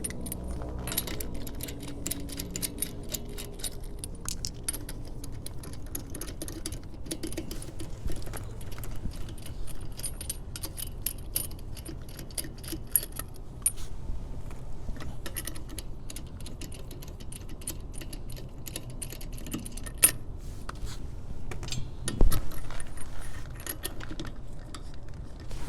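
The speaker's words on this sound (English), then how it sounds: "with the car supported by the jack stand, and this being up in the air, we should be able to remove all the lug nuts" Lug nuts are loosened and removed from a car wheel while the car sits raised on a jack stand, giving quiet, scattered metallic clinks, rattles and ticks over a low background hum, with no speech.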